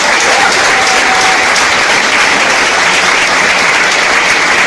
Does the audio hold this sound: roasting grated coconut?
no